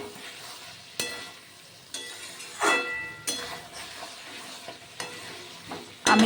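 A raw banana curry sizzles in a pan after water is poured in, with a spoon stirring and scraping in repeated sharp strokes over a soft, continuous frying hiss.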